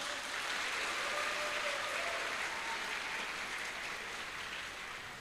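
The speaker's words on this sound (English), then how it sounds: "Can everyone give a big round of applause?" A crowd bursts into sustained, loud applause at the opening of an international seminar with SMA Kebangsaan, the dense clapping filling the room evenly and slowly fading near the close.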